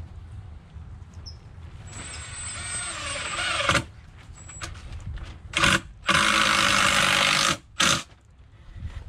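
A power driver sinks a screw into wooden formwork for a concrete table, with a high whining buzz followed by two louder bursts of grinding rotation, close by and with no talking.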